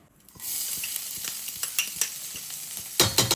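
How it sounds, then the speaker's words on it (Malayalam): Chopped ginger sautés in hot oil in a pan, starting as a bright sizzle and breaking into close stirring scrapes, with louder clatter near the end. "ഇഞ്ചി ഒന്ന് നമുക്ക് നന്നായിട്ട് വാട്ടിയെടുക്കാം കേട്ടോ ഇഞ്ചി ചോപ്പ് ചെയ്തതാണേ"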